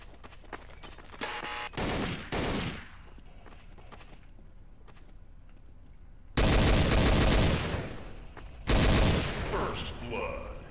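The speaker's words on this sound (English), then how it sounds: "Apparently, I bought a shotgun." Shotgun blasts in Counter-Strike arrive as loud, close, heavy bursts, with a few short shots early on, then two long booming stretches later separated by a brief gap, while the game's ambient noise runs underneath.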